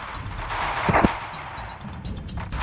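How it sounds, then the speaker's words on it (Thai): Gunfire in the Free Fire battle royale game: a short burst of rapid shots near the middle, sharp and close, set against ongoing game background noise. "ต้องยิงมัน"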